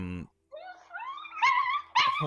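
A chihuahua lets out a run of high, wavering yelps and whimpers, rising in pitch and loudness over a couple of seconds, close by with no talk.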